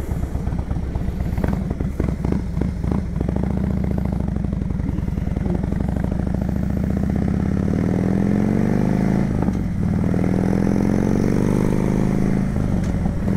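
Steady, loud engine rumble of a 2005 Harley-Davidson Road King with air ride, ape hanger bars and stretched bags, being ridden continuously with wind noise and slight pitch changes as it cruises.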